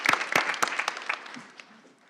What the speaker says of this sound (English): Let's give a round of applause again to Courtney here.